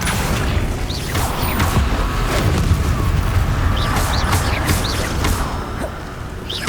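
Confringo blasting spells burst in Hogwarts Legacy, a dense, loud game mix of booming explosions, whooshes and mechanical clatter running continuously, with sharp bright accents recurring throughout.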